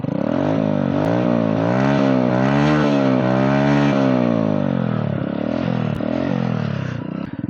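A TVS Sport motorcycle's exhaust revs hard and steadily with a rising and falling engine note, loud and close, with brief drops in between and no talk over it.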